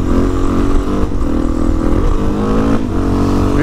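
A Suzuki DRZ400E supermoto with 13-47 chain gearing is ridden at speed. The close, loud single-cylinder engine note drops and climbs several times as the rider downshifts and revs between gears.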